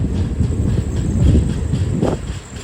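Duronto Express train pulling into Vizianagaram Junction, a low rumbling roll with soft clattering of wheels over track and some wind buffeting, steady and fairly near.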